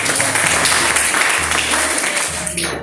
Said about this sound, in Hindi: एक बार उनके लिए भी तालियां बनती हैं